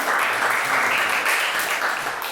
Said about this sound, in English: Round of applause to Yvonne.